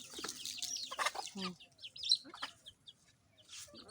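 Domestic chickens cluck and chirp in short, uneven bursts, fairly close and moderately loud, with a few higher calls mixed in and no talking.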